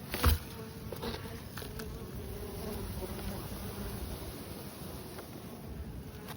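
Honeybees buzz around a hive in a yard in late February, a steady close drone of many wings with light wind noise over the microphone and no speech.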